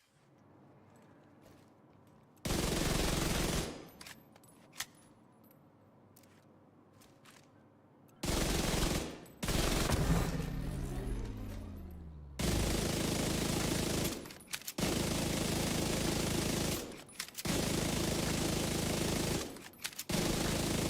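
Gunfire from a weapon in The Division 2, heard as several loud bursts of rapid automatic fire separated by short quiet gaps, with one sustained stretch of continuous shooting.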